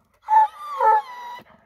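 A hunting dog gives a few drawn-out, whining howl-like barks close by, with no one speaking.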